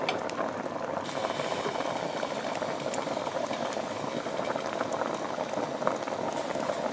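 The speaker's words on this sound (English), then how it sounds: "See that? It's boiling." A pot of liquid at a full boil on a stovetop turned to maximum heat, bubbling in a dense, steady rush at close range, faint and continuous, with no talking.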